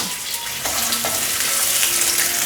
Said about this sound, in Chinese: 接下来把香菇放进来炒